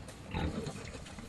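Pigs grunting in a short burst, a close, rough snort-like oink rising briefly in the middle of the moment.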